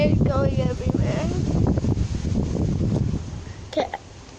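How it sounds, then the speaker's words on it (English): Strong gusting wind during Hurricane Ophelia buffets the microphone in loud, rumbling blasts, with someone speaking over the roar. "Whoa, it's really windy."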